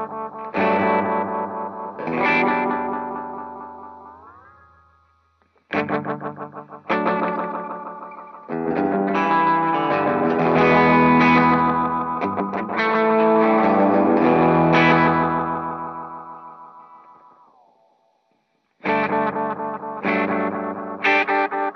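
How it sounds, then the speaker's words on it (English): An electric guitar runs through a dark, murky analog delay pedal, playing distorted chords and phrases that repeat and smear into echoes and then fade into silence between bursts; no talking. "I typically like having a dedicated analog, dark, murky kind of delay for like slapback and vibey sounds."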